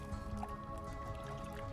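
Faint liquid drips while kvass is made from ground malted rye and boiling water, in a game cinematic set among medieval Rus, with a low steady background underneath.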